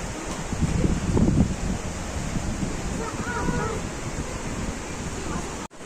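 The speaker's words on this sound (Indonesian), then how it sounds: "Tuh ada sungai." River water rushes steadily at a nature park in Puncak, Bogor, a broad wash of flowing noise with wind buffeting the microphone, while voices chatter over it early on.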